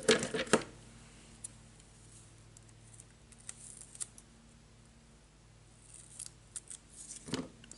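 Scissors snip through paper while a Halloween card is being made, a few crisp cuts at the start and again near the end, close and fairly quiet, with soft handling rustle between them.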